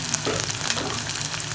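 Onion, ginger, garlic, green chilli and curry leaves fry in a pan, a steady, dense sizzle with faint crackles, close and continuous with no voices.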